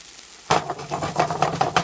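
Bread frying in ghee for Shahi Tudka, a sudden onset of steady sizzling and crackling after a quiet start, close and moderately loud with scattered pops and stirring scrapes.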